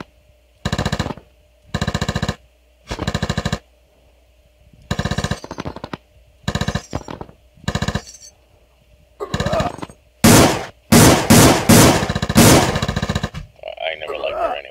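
Bursts of rapid automatic gunfire in an Unreal Engine 4 zombie-hunting game come in short repeated volleys, with bullets striking people and giving wet, fleshy impacts. The firing grows denser toward the end, with a voice talking between bursts.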